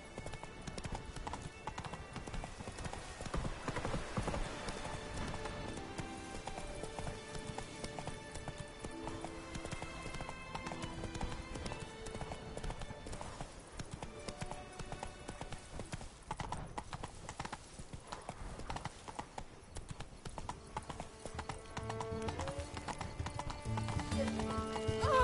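A horse gallops with continuous rhythmic clip-clopping hooves throughout, with an occasional whinny, and a faint voice urges it on.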